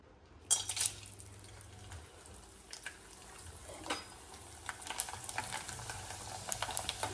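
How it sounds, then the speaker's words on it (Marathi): Sun-dried rice sandge fryums frying in hot oil in a pan, giving a steady soft sizzle with a few sharper crackles and bubbling bursts, close and fairly quiet throughout. "तर आता आपण हे तळून घेऊयात"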